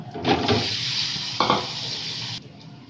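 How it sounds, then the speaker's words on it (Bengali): Eggs fry in a pan of hot oil with a little turmeric, giving a close, broad hissing sizzle with a couple of utensil clanks before it cuts off abruptly; no talking. "আর ডিমগুলো ভেজে নেব।"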